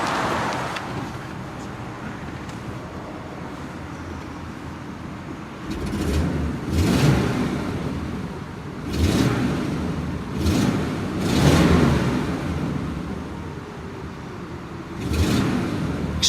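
A 1949 Pontiac Chieftain Deluxe straight-eight engine idles and revs in short bursts, each swell rising over a steady running hum, fairly close and with no talking.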